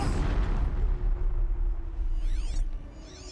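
A machine being shot at in the video game Horizon Zero Dawn, a loud booming, rumbling impact with mechanical creaks that fades, followed by sweeping whistling game tones, with no talk.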